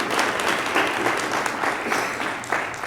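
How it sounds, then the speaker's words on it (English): A school board meeting audience applauds a student being recognized, a steady, dense roomful of clapping that holds evenly for about three seconds without a break. "if we could give her a round of applause."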